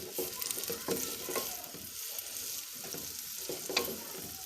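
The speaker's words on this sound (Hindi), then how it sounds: "तो बस हल्का सा प्याज़ों को सॉफ्ट करेंगे।" Onions softening lightly in a hot pan for a fish-head curry, giving a steady close sizzle with brief stirring scrapes and clinks scattered through, no voices.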